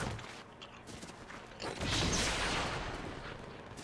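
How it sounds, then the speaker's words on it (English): Distant gunfire echoes as a rumbling burst, rising partway through and continuing as a rolling, booming barrage with no clear separate shots. "I hear shooting."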